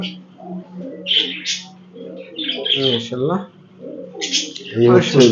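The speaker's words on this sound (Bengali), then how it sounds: "এটা একটা টেডি কবুতর" A teddy pigeon coos softly nearby in low, rolling calls indoors, mixed with a few chirps and some quiet human talk.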